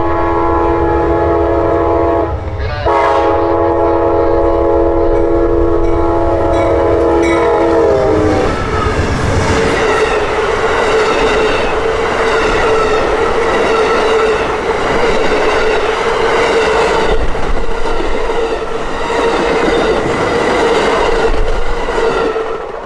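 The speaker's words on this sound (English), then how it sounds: "91, the southbound Silver Star, came tiptoeing around the curve with 2 GE P-42 DCs" Amtrak's southbound Silver Star, pulled by two GE P-42DC locomotives, passes close and loud, opening with a long sustained horn blast before giving way to the roar of engines and rumbling, clattering cars that continue steadily.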